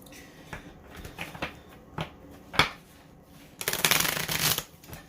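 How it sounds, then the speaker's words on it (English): A new Star Spinner tarot deck is shuffled by hand: soft irregular card slaps and taps build to a longer, louder riffling burst near the end, close up with no speech. "let's see if I can do this the traditional way for shuffling"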